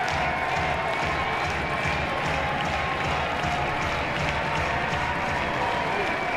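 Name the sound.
baseball crowd cheering and clapping encouragement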